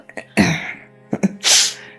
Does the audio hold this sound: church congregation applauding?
no